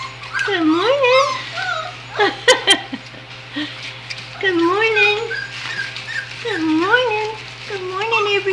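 Newborn puppies whimper in a run of high, thin, wavering cries, repeated through the stretch over a steady low hum and faint rustling.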